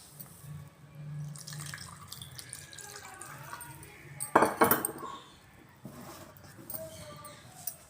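Milk poured into cooled sago and vermicelli payasam in a home kitchen, a soft wet trickle with drips and light clinks of utensils against the pot.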